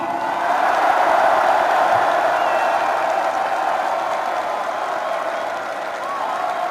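A large crowd at a party convention applauds and cheers for the newly chosen presidential candidate of Korea's National Revolutionary Party, a loud, sustained wash of clapping and shouting that fades slightly toward the end.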